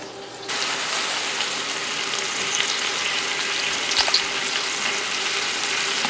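Cubed beef stew meat sautéing in an Instant Pot, a steady close sizzle that starts abruptly and runs on evenly, with a couple of brief clinks partway through.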